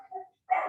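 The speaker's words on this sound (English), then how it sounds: "I can still hear a dog though for some reason." A dog barks faintly in the background during an online committee meeting, two short yelps in quick succession.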